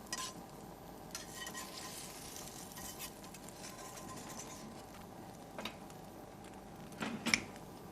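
An omelette cooking in a pan over a gas flame, with a soft, steady sizzle, scattered light scrapes and stirring noises, and a brief clatter of metal near the end.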